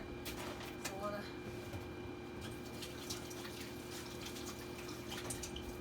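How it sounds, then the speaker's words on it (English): Hands rinsed under a running kitchen tap while baking a red velvet cake, a steady close wash of flowing water and splashing that continues evenly throughout. "So I'm gonna wash my hands one more time here."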